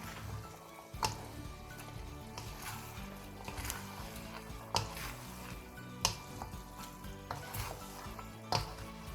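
Prawn noodles for a creamy prawn noodle dish sizzle in a frying pan while being tossed and stirred, with steady frying hiss and several sharp utensil clanks and scrapes at irregular intervals, close and fairly loud, no talking.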